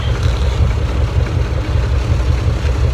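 Steady low rumble of a 2003 Dodge Ram 1500 truck engine running and smoking after a head-gasket stop-leak treatment, loud and constant with no clear revving.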